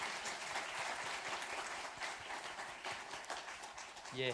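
A church congregation applauds at a Sunday service during a presentation after the sermon, a dense, steady wash of clapping throughout with a voice briefly speaking over it near the end.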